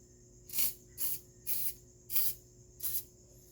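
Aerosol WD-40 misted onto a motorbike's exhaust in five evenly spaced, crisp hissing spurts, each about a quarter second long, close up with near silence between them.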